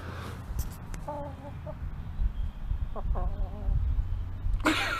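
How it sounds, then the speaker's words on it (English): A chicken clucks in short bursts at moderate distance, with outdoor background noise and a few other faint sounds around it. "There's a chicken."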